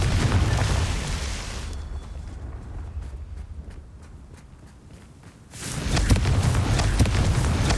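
A Confringo blasting spell explosion in the video game Hogwarts Legacy, a loud booming burst with a rumbling tail. It fades into quieter rhythmic steps, then another heavy blast roars up near the end.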